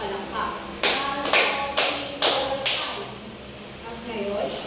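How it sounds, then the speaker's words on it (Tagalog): A group of children in a classroom clap in unison five times, loud, even claps in a steady rhythm, followed by a faint murmur of voices. "Bigyan natin si Kati Joy ng 5 palakpak."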